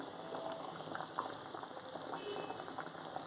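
Steady bubbling simmer of thick taro root tamarind curry in a pot, with small pops and blips over a constant low hiss, close by and fairly quiet.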